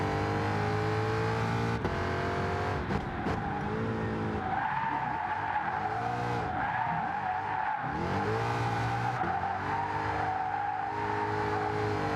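Tires of a stock Ford Mustang screech and slide while drifting in GT Sport. Sustained squeal rides over a droning, wavering engine note that rises and dips as the car swings through the slide.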